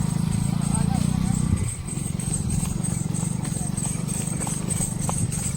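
The hooves of a ridden mare clip-clop in a fast, steady rhythm, loud and close, with a brief slowdown partway through before the even beat resumes.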